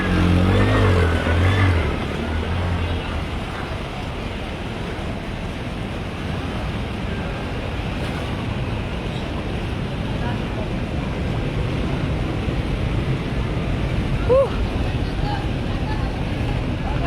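A strong river current during a flood in Manila rushes with a dense, continuous roar, while wind buffets the microphone throughout.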